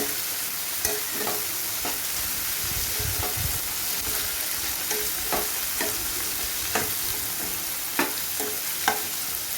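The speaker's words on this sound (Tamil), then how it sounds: "இப்போ வந்து நம்ம முதல்ல கத்திரிக்காய் எடுத்துட்டு அந்த எண்ணெயில் போட்டு நல்லா வதக்கலாம்" Brinjal sautéing in hot oil in a pan for a drumstick sabji, a steady close sizzle broken by repeated scraping stir strokes, with no voices.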